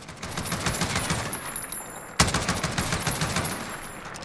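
An ASH-12.7 .50 caliber bullpup rifle fires in Call of Duty Modern Warfare: a steady run of rapid, heavy shots with one sharper blast midway, no voices.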